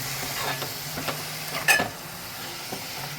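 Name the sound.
sautéing finely chopped mushrooms in a pan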